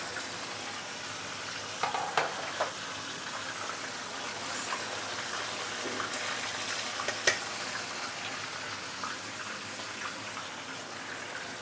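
Turmeric-marinated fish for ikan bakar frying in a non-stick pan gives a steady, even sizzle with a few faint clicks and taps, moderately close and without any voices.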